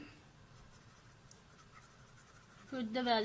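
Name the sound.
writing on paper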